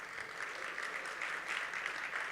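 An audience at an IIMB event applauds steadily, a dense wash of clapping hands that holds even throughout, moderately distant with no voices standing out.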